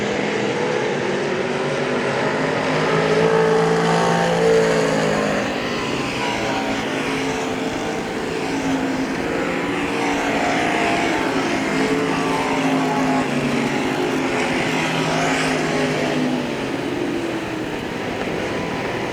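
Pure stock race cars roar together around the Hagerstown Speedway oval on a final lap, a loud, continuous dense engine drone that swells and fades slightly as the pack passes.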